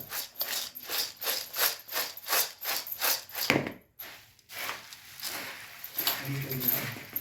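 Raw chivda, a dry puffed-rice bhel mix, being tossed and mixed by hand, giving a steady rhythmic dry rustling that repeats in regular strokes, close and moderately loud, with a brief pause partway through.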